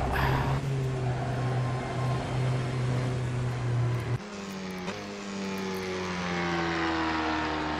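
A Tatuus F3 or F4 racing car engine in rFactor 2 drones steadily at high revs, then drops in pitch and settles into a lower, rougher, tractor-like hum; no talking.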